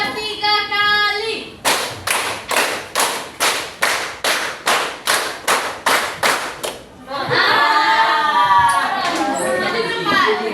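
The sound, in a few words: class clapping hands in a counted rhythm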